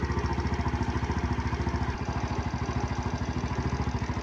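Yamaha Mio Sporty scooter engine with a freshly tuned carburetor idles steadily, a close, even, rapid low putter holding constant throughout with no talk.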